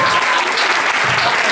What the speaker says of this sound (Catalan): Un aplaudiment per aquest nano que ha cantat.